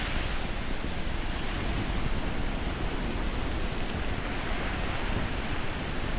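Ocean waves rolling into the bay at Playa de los Terrajales, Tenerife, a steady, dense wash of surf filling the whole stretch with constant broadband roar and no voices.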